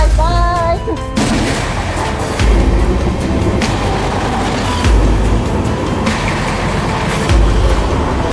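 The Hassan–Solapur superfast express rumbles past at speed on a non-stop run, a steady loud roar with rhythmic clacking of wheels over rail joints; a brief horn-like tone sounds at the start.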